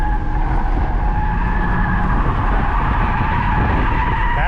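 Ford AU Falcon, modified by a 15-year-old, drifting at Queensland Raceway during Friday Night Drifts, with a loud continuous tyre squeal over a straining engine that holds steady throughout.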